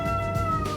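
A pet cat gives one drawn-out, plaintive meow, close and fairly loud, while being pushed into a carrier for a trip to the vet.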